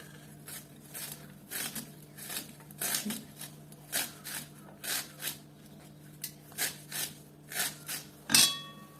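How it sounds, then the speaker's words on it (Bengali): Fragrant taro being chopped into small pieces with a knife, a steady series of close, crisp cutting strokes in an uneven rhythm, with a sharper clatter near the end. "এই সুগন্ধি কচুটা এইভাবে ছোটো ছোটো করে কাটতে হয়।"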